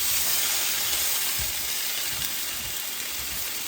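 Fideo noodles brown in a hot pan with a steady, even hiss and sizzle throughout, with no talking.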